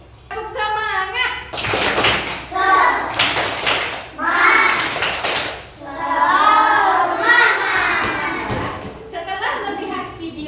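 Schoolchildren in a third-grade Islamic ethics class clap a rhythmic tepuk semangat chant, bursts of hand claps alternating with the children's sung and shouted words, close and lively.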